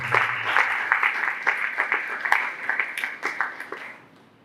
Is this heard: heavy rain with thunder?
no